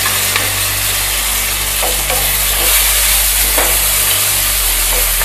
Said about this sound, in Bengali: পেঁয়াজ কুচি একটু ফ্রাই হলে পর